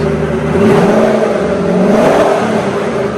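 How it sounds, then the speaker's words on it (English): A Ford GT engine revs hard and loud on rollers, a close roaring whine that holds steady for a few seconds with no voices. "we go to the back, and I hit the gas."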